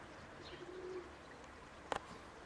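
Pigeons near a dovecote in a yard, a faint, low coo heard briefly against outdoor background noise, followed by a short, sharp clatter.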